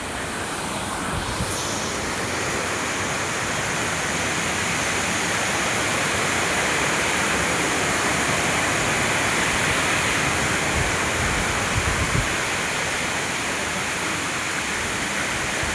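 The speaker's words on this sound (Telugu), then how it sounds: "చూడడానికి కూడా సూపర్గా ఉంది వాటర్ ఫాల్స్." Kothapalli waterfall near Paderu roars in a steady, dense, full-band rush of falling water, loud and close, continuing without pause or voices.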